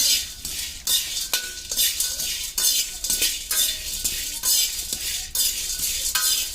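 Cinnamon, cloves and cardamom dry-roasting in a pan for hotel-style masala powder, stirred in rhythmic rasping sweeps that repeat about once a second, with faint clinks of the spatula; close and fairly loud, no talking.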